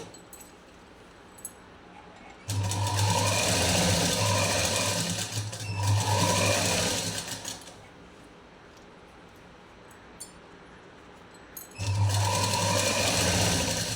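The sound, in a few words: sewing machine stitching blouse lining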